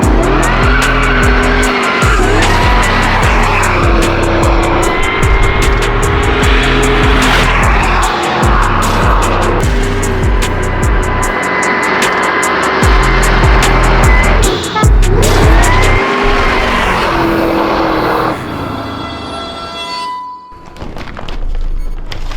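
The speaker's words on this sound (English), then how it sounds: "This is a fully built driver car, making over 600 horsepower to the tires with a nice Whipple supercharger." A 1955 Chevy Bel Air with a Whipple supercharger making over 600 horsepower roars loudly through repeated hard accelerations and gear changes, tires squealing in long bursts before the engine cuts briefly near the end.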